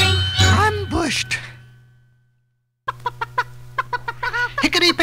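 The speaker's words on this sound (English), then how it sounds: "Hickety-pickety, my black hen, she lays eggs for gentlemen" A black hen clucks in quick, sharp bursts after a short silence, with clucks and brief calls close by and a steady low tone underneath.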